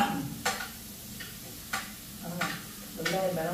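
Onions sizzle and fry in oil in a home kitchen pan while being stirred, with a steady low crackle broken by a few sharp utensil scrapes and clicks.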